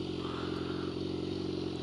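A BMW S1000R motorcycle idles steadily with its exhaust pipe close by, a loud, continuous low rumble with dense harmonic layers holding even throughout.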